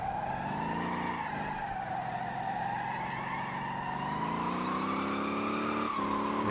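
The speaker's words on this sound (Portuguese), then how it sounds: "Vem fritando o pneu, ó." A car drifts in the driving game Motor Town, its tires squealing in one long, steady screech over the engine's drone, loud and continuous throughout with a slight wavering in pitch.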